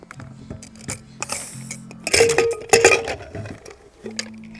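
A pressure cooker is opened and sweet payasam is stirred in the pot, giving metallic clinks and scrapes of a utensil against the pot, with a brief hiss and clatter near the middle.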